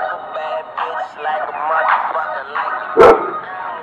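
Several dogs bark repeatedly at a moderate distance outdoors, a steady string of yips and woofs, with one sharp loud bark near the end.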